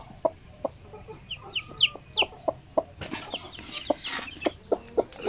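A hen clucks in short, evenly spaced notes close to the mic while newly hatched Basilan chicks cheep in high bursts between them, the clucks continuing throughout at a moderate level.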